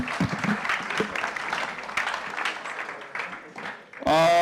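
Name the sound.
audience applause at a demo night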